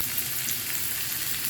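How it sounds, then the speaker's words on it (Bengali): Garlic, onion and two dried chilies frying in hot oil for tempering a pumpkin-greens dal, a steady close sizzle and crackle throughout with no voices. "রসুন আর পেঁয়াজ দিয়ে দিই বাগারের জন্য"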